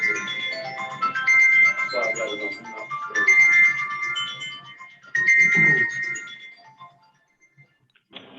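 Phone ringtone going off during an online board of directors meeting, a bright looping electronic melody repeated in a few phrases over a murmur of voices, then fading to quiet.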